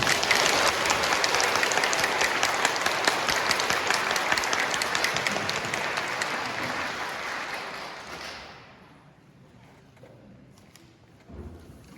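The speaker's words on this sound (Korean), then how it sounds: "소감당 마태오 신부님을 뜨거운 박수로 모시겠습니다." An audience applauds warmly to welcome Father Matthew to a Lenten lecture, a dense roar of clapping that holds strong and then tapers off into quiet, with a brief knock near the end.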